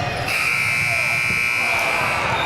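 A loud, sustained electronic buzzer sounds in a girls' high school basketball game against Ridley High School, marking the end of the first half. The single steady tone holds for about two seconds over crowd noise in the gym.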